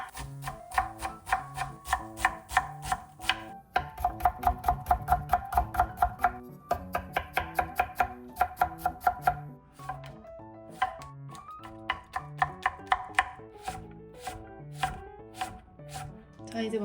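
A knife chopping vegetables on a cutting board during meal prep, fast rhythmic knocks in long runs of close, crisp strokes with short pauses between bursts, no talk.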